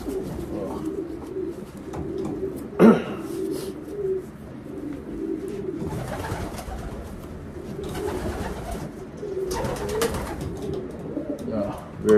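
Racing pigeons in a Utah loft give low, throaty coos that run almost continuously, close and moderately loud, with one sharp burst near the start and brief bits of breathy rustling.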